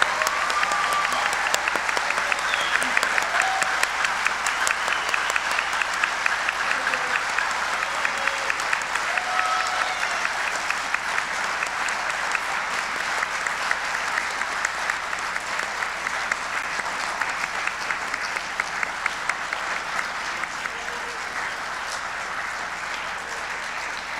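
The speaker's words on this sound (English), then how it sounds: "You may now applaud." Audience applause at a congressional candidates forum, sustained and loud, a dense crowd clapping steadily for over twenty seconds that tapers slightly toward the end.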